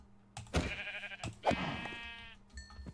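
Sheep bleat in a video game, two or three close, clear calls that waver, each lasting about half a second.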